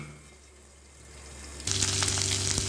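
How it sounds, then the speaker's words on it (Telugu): After a quiet start, onions hit a hot pan for poori curry and erupt into a loud, steady sizzle with crackling spatters that continues to the end. "కొంచెం లైట్ బ్రౌన్ కలర్ వచ్చే వరకు వేయించండి."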